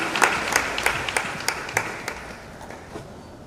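An audience at an engineering college alumni gathering claps for a panelist. The applause starts as a crisp round of many hands and thins into scattered individual claps as it fades out.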